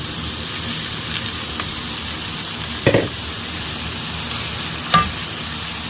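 Goan tambdi bhaji greens dropped into a hot pan, giving a steady, even sizzle and fry throughout, with a couple of brief louder crackles and clatters partway through; no talking.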